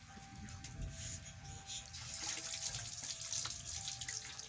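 Water runs steadily from a tap into a sink, a continuous close splashing hiss with faint background voices.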